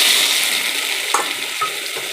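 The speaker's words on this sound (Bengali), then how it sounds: "তেলটা গরম হয়ে আসলে এখন আমি দিয়ে দেব আগে থেকে সেদ্ধ করে রাখা আলু।" Pre-boiled potatoes dropped into hot oil in a wok, a steady bright sizzle filling the space, with a couple of faint clinks as they settle, close and with no voices.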